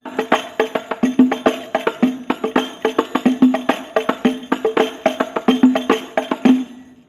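Several hadroh frame drum strokes combined into a dense, rapid rhythmic pattern of sharp slaps and deeper booming hits, played up close and continuously without speech.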